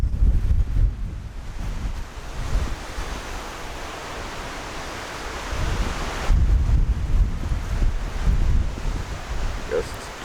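Strong, gusty wind buffets the microphone outdoors in stormy weather during Trangia stove omelette cooking, a loud continuous broadband roar that swells and eases over the whole stretch with no speech.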